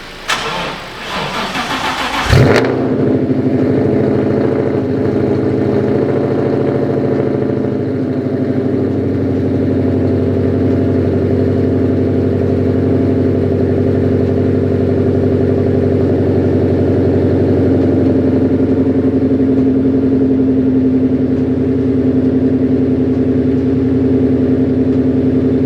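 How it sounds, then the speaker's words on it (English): A dusty car running on E85 cranks briefly and fires up, then settles into a loud, steady idle with a constant drone that continues for over twenty seconds, close and without talk. "And we're gonna give this car a start up."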